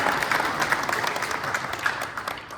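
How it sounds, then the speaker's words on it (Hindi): Audience applause at an RCM business gathering, a steady wash of many hands clapping throughout at moderate level, with no voices standing out. "थोड़ा जोर से ताली बजाइए भैया"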